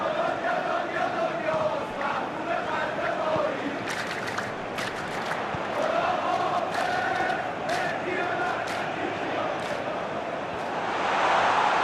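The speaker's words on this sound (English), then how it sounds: "the crowd clearly like what they just saw" Stadium crowd in the football video game PES 2025, during a classic Liga Indonesia match featuring Persija, roars steadily throughout and swells louder near the end.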